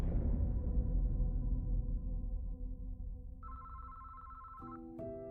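Telephone ringing sound effect in a dark mystery story: a low droning bed fades, then electronic ring tones enter near the end, clear and steady with a second tone layered in.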